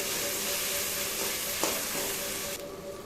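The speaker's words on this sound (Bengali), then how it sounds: "প্রথমে গাজর ক্যাপসিকাম আর পেঁয়াজটাকে ভেজে নিচ্ছি" Carrots, capsicum and onion sizzle in a pan for a quick breakfast, a steady close-up hiss of frying with a brief clink partway through, before the sizzle drops in level near the end.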